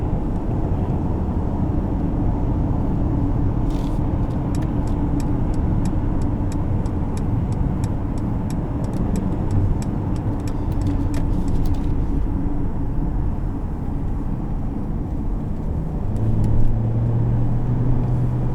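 A 2020 Mercedes-Benz GLE350 accelerating gently from the cabin, a low steady engine hum and road rumble rising slightly, with faint interior ticks and rattles, no talking.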